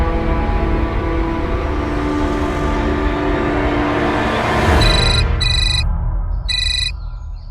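A loud, steady engine-like drone fills the clip, then an electronic ringtone chirps in short repeated bursts near the end, cutting out between rings.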